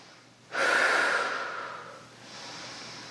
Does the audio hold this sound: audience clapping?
no